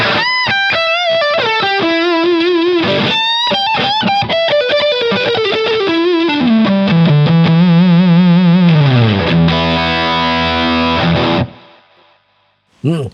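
Electric guitar through an LPD Pedals distortion pedal with a modern high-gain tone plays a loud sustained lead line, descending into thick low chords before the sound cuts off near the end.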